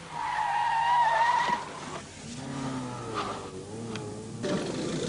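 A Peugeot 405 Mi16 rally car on Flanders roads, its tires squealing in a long, close skid that fades into lower engine and road noise, with no talk.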